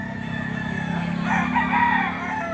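A rooster crows at the Lipa livestock auction market where chickens are sold, its call rising over a steady low hum of crowd and machinery, fairly close and moderately loud.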